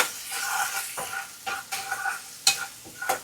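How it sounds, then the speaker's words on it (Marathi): Ingredients roasting in a pan until light brown for dal khichdi, with steady close sizzling and frying and repeated stirring scrapes and clinks of the spoon against the pan, no talk. "मस्तपैकी असं भाजून घ्यायचं, हलकं ब्राऊन होईपर्यंत."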